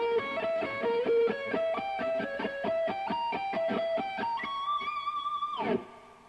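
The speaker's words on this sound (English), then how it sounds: "it's like a blues lick played diminished style" A distorted electric guitar plays a fast blues lick in a diminished style, with rapid single notes climbing in a steady run and ending on a sustained bend that fades out. No voices.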